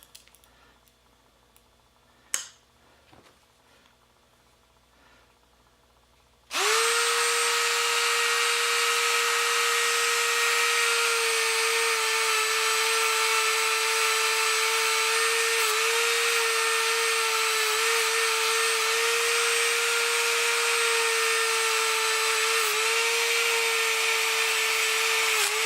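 After a few seconds of quiet room noise and a couple of small knocks, a motorized polishing wheel with 400 grit spins up on old pennies and runs loud and steady with a constant high whine.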